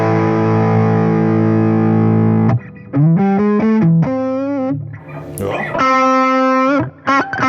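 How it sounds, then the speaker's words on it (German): Electric guitar through a Tone City overdrive pedal in a classic 1980s style, a long distorted sustained chord followed by gritty single-note riffs and another ringing chord, loud and close with no talking. "Also ein ziemlich klassisches Overdrive."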